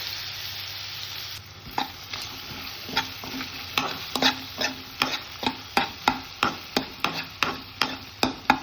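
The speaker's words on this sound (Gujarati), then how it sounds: "આદુ, મરચાં અને લસણની આવી કરકરી પેસ્ટ કરી વઘારી દઈએ." A coarse paste of ginger, chilli and garlic sizzles in a hot tempering with ajwain and asafoetida. Over the frying hiss comes a run of sharp, evenly spaced spatula taps against the pan, close and clear.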